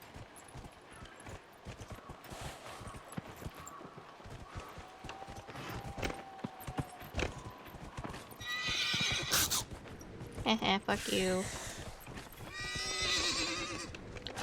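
A horse in Dragon Age: Inquisition clip-clops at a steady walking rhythm, then lets out several loud, shrill neighs and whinnies near the end. A man mutters briefly over the hoofbeats.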